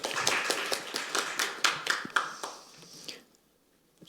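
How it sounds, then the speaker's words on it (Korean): Scattered hand clapping from a small audience at a formal National Assembly event on child-support reform, welcoming a lawmaker to the podium; a few seconds of brisk, distinct claps that fade out into near silence. "큰 박수로 맞아주시기 바랍니다."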